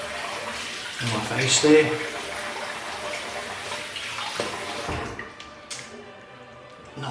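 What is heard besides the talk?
water rinsing shaving lather off face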